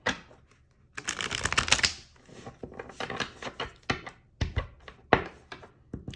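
Tarot cards are shuffled close up: a long riffling burst, then several short snapping taps and flutters.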